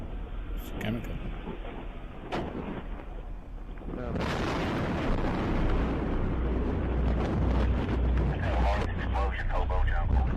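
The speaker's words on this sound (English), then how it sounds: "Explosion, Hobo Jungle. We engulfed in flames." A sudden loud explosion erupts in a hobo camp, followed by a sustained roaring rumble of fire and debris, picked up by a police car dashcam amid a faint chemical haze; earlier quiet radio-like chatter precedes the blast.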